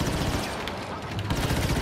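SMG gunfire in Star Wars Battlefront II, a rapid dense burst of shots forming a continuous loud rattle throughout the short moment, with game ambience underneath.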